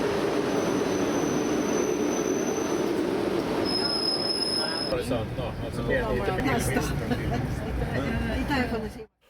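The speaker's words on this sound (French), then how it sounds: "Le train prend rapidement de la vitesse pour quitter la capitale de la Suède" Swedish X2000 express train pulling out of Stockholm and picking up speed, with loud rolling rumble and high squealing wheels on the rails, the clatter building steadily up close.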